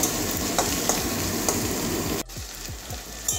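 Eggplant stir-fried with spices in a pan, a steady sizzle with regular scraping strokes of the spatula, close and fairly loud, the frying quieting somewhat partway through.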